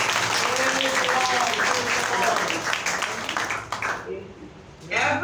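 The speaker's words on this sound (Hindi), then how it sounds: "जोरदार तालियां बजाएंगे।" Loud applause from a church congregation at a Sunday prayer meeting, steady clapping filling the room for about four seconds before dropping away, then swelling briefly again.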